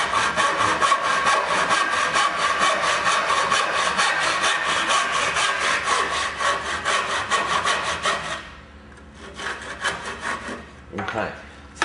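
A handsaw cuts through a wooden roof rafter with rapid, regular back-and-forth strokes, loud and close, before the rhythm slows and breaks into a few final strokes as the cut finishes.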